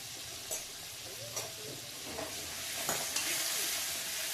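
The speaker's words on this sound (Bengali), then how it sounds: "মশলাটা ভালো করে কষিয়ে নেব।" A spice masala of turmeric, chilli powder and salt sautéing in a pan gives a soft, fairly faint sizzle, with a few scraping strokes of the spoon.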